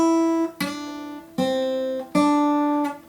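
The opening measure of Mary Had a Little Lamb on guitar, four clear plucked notes in an unhurried rhythm, each ringing before the next, close and fairly loud with no speech.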